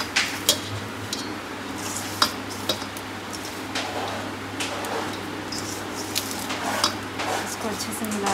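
Ingredients for potato bhujia are mixed by hand in a home kitchen bowl, making soft squishing and stirring sounds with occasional sharp clinks against the bowl, under and between quiet talk.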